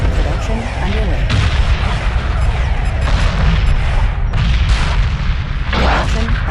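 Space-combat explosions and detonations from Homeworld 3 boom in a rapid, loud barrage, with heavy blasts overlapping continuously and a few sharper bursts standing out.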